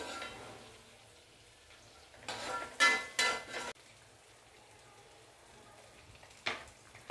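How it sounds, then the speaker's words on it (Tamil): Chopped onions sautéing in a pan for a keerai poriyal, a quiet steady sizzle broken by a few loud bursts of stirring and a brief clatter of utensil on pan, no voices. "வெங்காயம் நல்லா வதங்கட்டும்"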